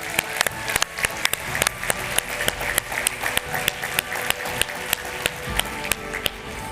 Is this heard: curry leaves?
no